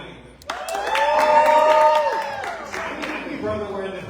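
An audience at a live book-launch event erupts into cheering, whooping and applause after a quiet start, holding loud for a couple of seconds before tapering into scattered claps.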